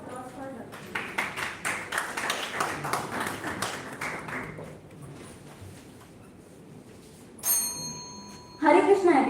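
An audience at a national-level oratory contest claps for a contestant, a lively patter of applause over the first few seconds that fades out. A voice then speaks near a microphone, with a brief electronic chime.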